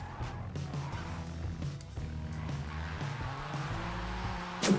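A Toyota GR Yaris in Forza Horizon, all-wheel drive split 70-30 to the rear, slides around with a low engine drone and thin tire squeal, fairly quiet and steady throughout.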